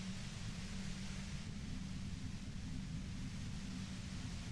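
Radio static in the game Disco Elysium, a dense, even hiss of white noise with a heavier low rumble underneath, steady and unbroken throughout.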